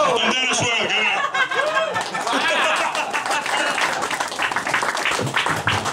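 Crowd applause at a comedy roast in a restaurant venue, loud and dense, mixed with chuckles, laughter and chatter, while a voice talks over it throughout.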